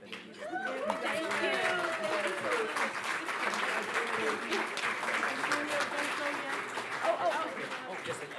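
Audience applauding at an alumni awards celebration, a dense and sustained round of clapping from a sizable crowd with murmured voices mixed in, holding steady the whole time.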